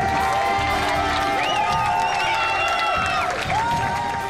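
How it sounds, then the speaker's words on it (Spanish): A crowd celebrating the halting of an eviction in Las Palmas de Gran Canaria shouts and cheers loudly and steadily throughout, with rising whoops, mixed voices and scattered clapping. "Gritos de ánimo, gritos de victoria, celebran la primera paralización de un desahucio en Las Palmas de Gran Canaria."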